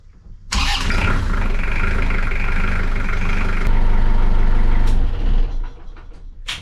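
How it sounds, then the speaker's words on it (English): Aboard a wooden liveaboard boat, an inboard engine cranks and starts, then runs at a loud steady rumble for several seconds before the sound eases off. "so I'm going to start the engine again and circulate all that water and make sure it's not leaking"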